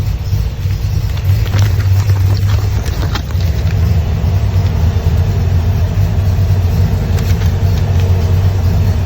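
A Ford Taurus radiator cooling fan runs on its low setting, giving a steady, close, airy rumble with a constant low hum and no break across the span.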